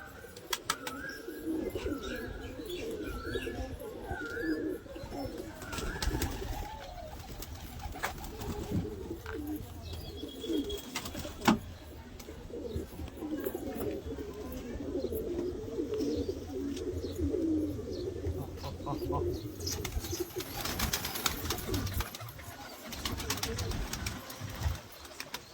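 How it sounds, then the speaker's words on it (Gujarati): Two pigeons perched overhead give repeated low cooing calls throughout, with scattered chirps and a steady outdoor rumble; a voice talks briefly over them. "ભાઈ બંને કબૂતર તો માથે ચડી ગયા."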